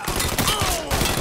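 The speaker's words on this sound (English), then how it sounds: "Taking cover! Heavy fucking fire!" Heavy gunfire in Mafia III, a dense, loud, continuous volley of rapid shots with no break.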